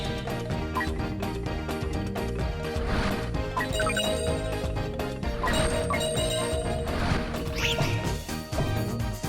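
Festive Jingle Bells music from the Sega Saturn game NiGHTS into Dreams plays steadily and loudly throughout, with bright bell chimes over a full instrumental backing.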